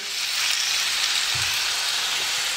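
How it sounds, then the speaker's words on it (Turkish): Sunflower oil heating in a frying pan on the stove, giving a steady, close, dense crackling sizzle that holds at the same level from start to end. "Hem tavanın hem de yağın ısınmasını bekliyoruz."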